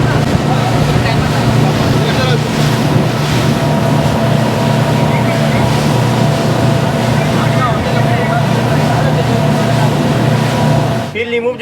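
Motorboat carrying tourists from Pattaya to Coral Island, its engine a loud, steady droning rumble mixed with wind and water noise throughout, cutting off near the end.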